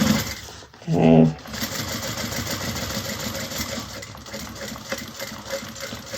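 A sewing machine runs steadily, stitching a bag seam close beside an earlier row of stitching, its motor whirring continuously at close range after a brief louder burst near the start.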